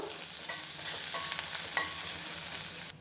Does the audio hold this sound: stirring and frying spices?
yes